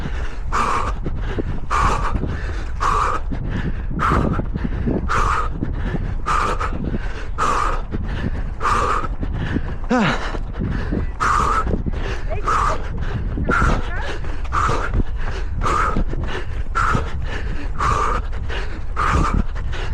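Heavy, rhythmic panting from a runner pushing through the last stretch of a parkrun, each forced breath loud and close, repeating steadily about every second.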